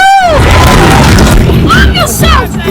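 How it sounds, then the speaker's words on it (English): Cannon fire in the film Master and Commander: a heavy boom with whistling, descending tones and crashing impacts, loud and close, as a person reacts excitedly over it. "Oh my god, cannon!"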